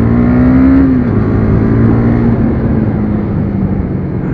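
KTM Duke 250 motorcycle on a test ride, its engine droning steadily and loudly with a rising tone early on, then holding a sustained hum while it accelerates along an open stretch.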